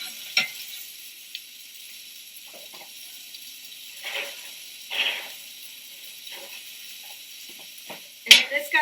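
Duck frying in its rendered fat in a pan on a stovetop, a soft steady sizzle with a few brief clatters and scrapes of utensils against the pan.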